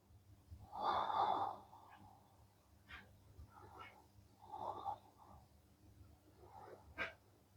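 Slow, deep breaths during a yoga flow, a long audible exhale followed by softer, quieter breaths at a slow, steady pace, faint and close to the listener.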